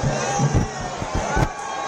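A large roadside crowd in Bengaluru gathered for Prime Minister Modi's roadshow, producing a dense din of shouting and cheering in repeated bursts over constant babble, close and loud.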